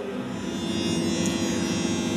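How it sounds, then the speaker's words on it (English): A dense multitone test signal from ERGO room correction calibration, with many distinct frequencies sounding at once as a steady, buzzing wash of tone played through speakers, continuous and fairly loud with no talking. "That sound you're hearing is called a multitone."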